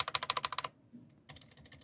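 Quick typing on Holy Panda switches, a burst of sharp, close keystrokes, a short pause, then another run of clacks resuming.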